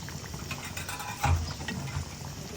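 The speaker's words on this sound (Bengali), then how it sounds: "এই যে কুকিং ক্রিমগুলো আমি এখানে ঢেলে দিলাম" Cooking cream poured into a pan of butter chicken, a soft liquid gurgle and bubbling that briefly swells in the middle against a low simmer, quiet and close.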